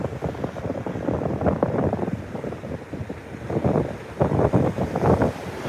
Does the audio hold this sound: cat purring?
no